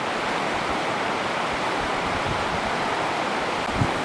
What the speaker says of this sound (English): here's the Maclaren River crossing, and it's flowing kind of fast